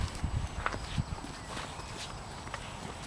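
Hooves of a horse at the Irish National Stud clop on hard ground at an irregular walking pace, fairly close, with some low background rumble and no talking.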